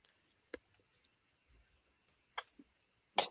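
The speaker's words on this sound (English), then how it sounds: "Typing now." Typing on a keyboard: a few sparse, quiet clicks and taps spaced irregularly over a near-silent background, close to the microphone.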